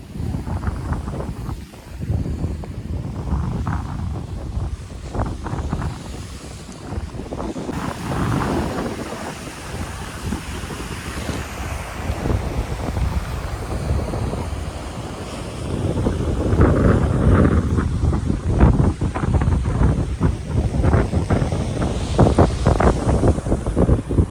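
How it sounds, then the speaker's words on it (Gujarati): Sea waves wash in on the shore at a village beach on the Gujarat coast while strong wind buffets the microphone, a constant loud rumble that grows heavier toward the end, with no voices. "જો મિત્રો આવું કંઈક લોકેશન છે નીપ ગામના દરિયે"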